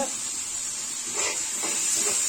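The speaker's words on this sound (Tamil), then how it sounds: "இது நல்லா பச்சை வாசனை போகிற மாதிரி நல்லா வதக்கிக்கோங்க." Spice powders, chicken masala powder, chilli powder and rock salt, sauté in hot oil in a pan for a spicy Tamil egg curry, a steady close sizzling hiss with faint stirring scrapes.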